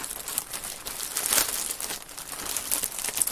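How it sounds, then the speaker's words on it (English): Plastic packaging around a Herrschners yarn pack being handled, bursts of crinkling and rustling close to the microphone, loud and continuous with sharper crackles now and then. "Sorry about all the crinkling."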